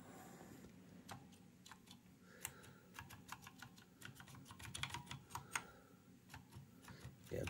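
Keys clatter on a generic Taiwanese Apple clone computer keyboard in irregular bursts of sharp, close clicks, some isolated and some in quick runs, over a quiet background hum.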